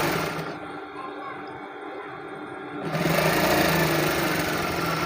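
A sewing machine stitches red piping onto a kameez sleeve, a steady high mechanical whir that drops back briefly, then runs on louder and continuous.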